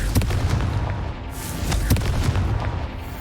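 Confringo spell explosions in the video game Hogwarts Legacy: a run of loud, booming fiery blasts with crackling bursts, the strongest near the start and around two seconds in, over a continuous rumbling roar.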